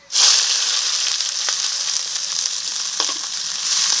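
Chopped onions and a bay leaf with whole cumin frying in hot mustard oil in a wok: a loud, close, continuous hiss and sizzle that starts abruptly, with a few stirring knocks and no speech.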